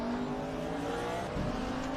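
Onboard engine of a 1992 DTM race car in the Raceroom video game, a loud, continuous high-revving drone at Autodrom Most, with the pitch steady, then dipping briefly as the car goes into the hairpin.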